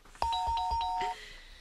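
A doorbell chimes with a bright ding-dong, ringing tones held for about a second over a faint background hum.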